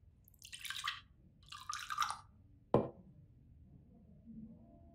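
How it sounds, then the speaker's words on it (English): Gin pours into a glass in the video game Backbone, a couple of short liquid splashes followed by a sharp clink of the bottle or glass, then quiet room tone. "Pour me a tall one."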